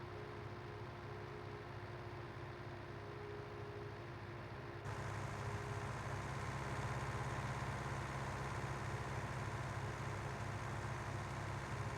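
A tractor engine idling in the farming game Farming Simulator 19, a steady low droning hum that becomes slightly louder partway through, with no talk.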